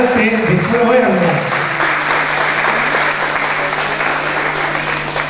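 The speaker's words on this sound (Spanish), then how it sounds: "le vamos a dar un fuerte aplauso, porque es una obra de arte" Applause at the opening of a Divine Mercy devotees' gathering in Cerrito, a steady wash of clapping from a crowd lasting several seconds under a faint voice.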